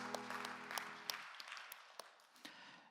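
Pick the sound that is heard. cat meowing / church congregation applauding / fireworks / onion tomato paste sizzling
church congregation applauding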